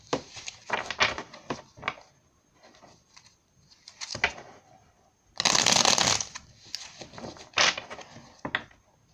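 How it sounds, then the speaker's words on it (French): Tarot cards riffled and shuffled by hand, close and clear, in several quick bursts separated by quieter pauses as cards are handled and drawn from the deck. "je retire quelques cartes pour vous les scorpions"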